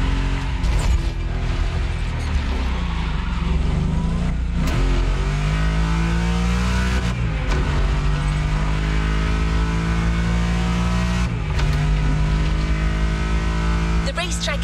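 A Porsche 911 GT3 Cup race car screams around a track in The Crew Motorfest, loud and close, revving hard through repeated gear shifts with rising pitch sweeps, unbroken throughout.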